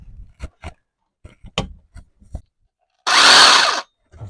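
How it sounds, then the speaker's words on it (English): An electric belt sander, found among a declutter of an elderly mother's belongings, buzzes loudly for under a second after a few scattered knocks and handling noises. "Okay, another working sander."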